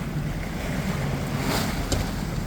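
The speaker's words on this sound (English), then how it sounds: "Can you hear the waves?" Waves slosh and splash against a boat hull off St Alban's Head amid constant wind rush, with a couple of sharper splashes standing out.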